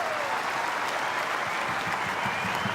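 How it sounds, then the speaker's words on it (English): Sustained applause from a stadium crowd at an A-League soccer match between Newcastle Jets and Sydney FC, a dense, even wash of clapping that holds steady without a break and has no talk over it. "Ladies and gentlemen, a round of applause"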